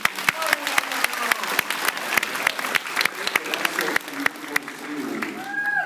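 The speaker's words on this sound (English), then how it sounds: "Round of applause for Nolan." A convention panel audience at Megacon applauds for voice actor Nolan North, steady clapping from a crowd with sharp individual claps standing out, while voices talk over the end.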